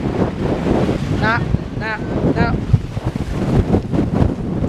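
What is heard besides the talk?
strong wind blowing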